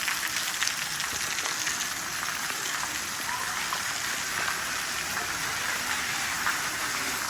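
Heavy rain pours steadily in a Pakistani village, a dense unbroken hiss of drops striking surfaces, loud and close throughout with no pause.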